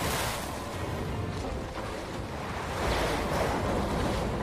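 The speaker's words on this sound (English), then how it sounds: "Jesus, the storm." Stormy sea waves in a pirate movie surge and crash in a continuous roar mixed with wind, swelling louder toward the end, with no speech over it.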